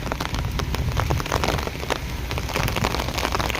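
Rain falls steadily on a forest campsite, a dense, loud patter of drops striking surfaces throughout, close and continuous with no voices.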